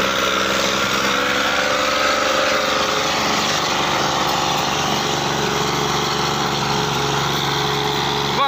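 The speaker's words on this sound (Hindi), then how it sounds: "वाह जी वाह ट्रैक्टर निकल गया है दोस्तों।" A Massey tractor's engine runs loud and steady as it drives on a road, a continuous, unbroken mechanical drone close by with no voices over it.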